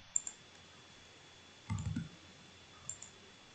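Mouse clicks on a computer running Rhino 3D modeling software, a couple of faint single clicks near the start and end and a louder cluster of clicks in the middle, close by against a quiet room.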